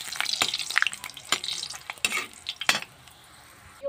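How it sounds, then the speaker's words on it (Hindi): Food deep-fries in hot refined oil in a kadai, bursts of bubbling sizzle broken by stirring scrapes and sharp spatters, then settling to a quieter fizz; no voices. "देख सकते हैं तेल हमारा गर्म हो चुका है, देख सकते हैं ऐसे ऐसे तलना है इसमें"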